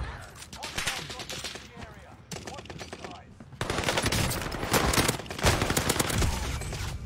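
Video game zombies fire back with rapid automatic gunfire, bursts of dense popping that build in loudness over the clip and sit close in the mix.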